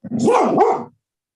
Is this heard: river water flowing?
no